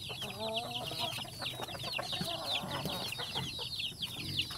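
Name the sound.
chickens clucking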